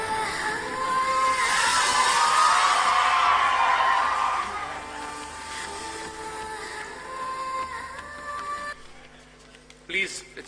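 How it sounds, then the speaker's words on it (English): A large crowd at a political gathering hooting, whistling and yelling, a loud sustained roar with shrill whistles that eases after a few seconds and continues more softly. "Please do not hoot and whistle, my friends."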